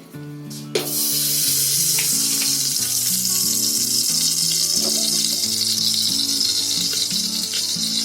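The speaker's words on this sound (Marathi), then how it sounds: "हे 2 चमचा घी घेतलाय, ते पहिला कुकर मध्ये टाकते." Hot ghee sizzles steadily in a pressure cooker after a brief clatter at the start, a loud continuous crackling hiss with faint background music.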